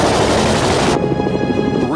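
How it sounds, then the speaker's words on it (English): Rapid bursts of machine-gun fire from Manfred von Richthofen's Albatros D.III WWI fighter plane during an aerial dogfight, a dense loud rattle that drops to a thinner crackle halfway through, with a rising whine near the end. "300 rounds from Richthofen's machine gun brings his score to the magic number of 50 victories"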